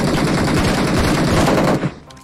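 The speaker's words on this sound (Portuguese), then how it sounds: "Tem muita gente dando tiro." Rapid automatic gunfire from PUBG Mobile, loud and continuous with dense overlapping bursts for about two seconds before cutting off abruptly near the end.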